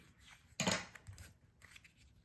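Scissors snip through plasticky craft material, one sharp close cut followed by a few lighter snips and rustles, quiet and with no voices.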